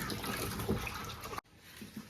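Tap water pours steadily into a container for washing beetroot, a continuous splashing rush that cuts off abruptly partway, leaving quieter trickles and faint drips.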